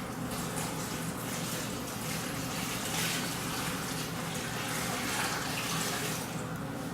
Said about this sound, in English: go ahead and pour the rest of your water on. And pour it over the filter.